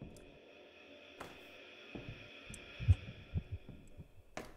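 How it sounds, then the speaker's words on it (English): Heartbeat effect in the ghost-hunting video game Ghost Hunters Corp: a low, muffled thumping over a steady humming game ambience, with a few heavier beats clustered near the middle. "Oh no, I heard heartbeats."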